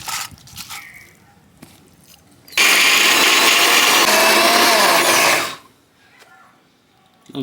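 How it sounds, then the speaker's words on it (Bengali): Kitchen blender grinds warm fried onions into a thick paste, a loud steady whirring roar running about three seconds alone, preceded and followed by quieter kitchen sounds. "পেঁয়াজ ভাজাটা একটা সুন্দর থকথকে পেস্ট করে নাও"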